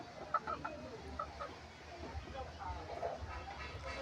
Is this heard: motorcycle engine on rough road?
no